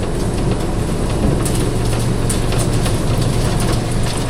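A grain leg elevator on a farm runs too fast while dumping soybeans, giving a loud, continuous mechanical rumble and rattle with faint rhythmic clatter throughout.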